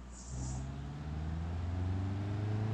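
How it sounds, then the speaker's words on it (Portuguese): Another car drives by in the BeamNG.Drive driving game, a low engine hum that swells in and holds steady with a rising tone, moderately close, with no talk. "acabei de ouvir um outro carro."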